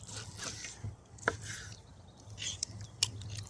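A knife cuts a cooked pork loin from a Petromax Dutch oven into slices: a few sharp, separate chops and scrapes at an uneven pace over a low, steady hum, close and fairly quiet.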